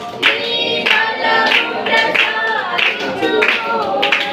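A church congregation at a healing service claps hands in a regular, rhythmic beat alongside singing voices, the claps sharp and evenly spaced throughout.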